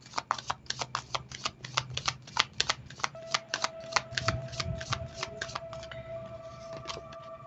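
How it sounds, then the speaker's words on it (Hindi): Tarot cards being shuffled by hand, a close series of quick crisp riffling bursts in an irregular rhythm, with a faint steady tone underneath. "So let me shuffle and let me check more."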